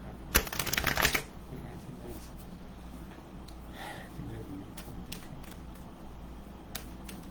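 A deck of cards is riffled in one quick burst, followed by soft shuffling and faint handling noises in a quiet room.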